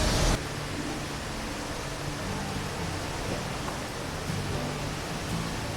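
Brandywine Falls in Cuyahoga Valley National Park, Ohio, roaring as a steady, dense broadband wash of falling water heard from the overlook bridge, continuous with no pauses.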